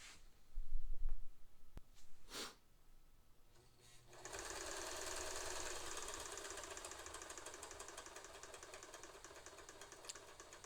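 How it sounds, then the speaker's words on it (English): A vintage Singer sewing machine on its original carbon-pile foot pedal starts up after a few bumps and handling knocks, then runs steadily with a rapid, even mechanical whir and needle clatter, close and continuous to the end. "this is the first time that I'm going to have a listen to the machine"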